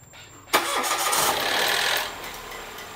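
A Mitsubishi Montero engine cranks and catches with a sharp start after half a second, then settles into a loud, noisy idle that drops slightly toward the end.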